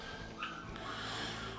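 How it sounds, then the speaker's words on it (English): Hovawart puppies rough-playing together let out a couple of short, high yips and whimpers, fairly close but modest in volume, over a steady background hiss with no talking. "They yip when it's too much."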